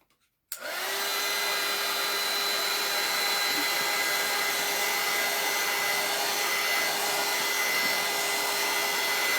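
A hair dryer drying paint on a floral and cross throw pillow cover kicks on after a brief silence and runs as a loud, steady whirring blast with a faint tonal whine, uninterrupted and without speech.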